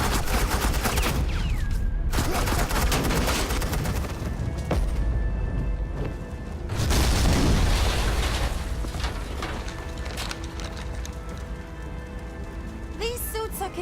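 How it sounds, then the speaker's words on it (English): Sustained gunfire from the video game Telltale Batman Season 2, agents laying down suppressing fire in dense, continuous bursts across the whole stretch, loud and busy with several louder volleys. "suppressing fire."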